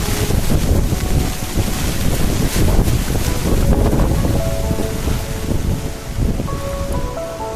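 Strong wind buffets the microphone at Umbrella waterfall, Bhandardara, during monsoon rain, with water pouring down one side; a loud, steady roaring rush fills the whole recording with no talking.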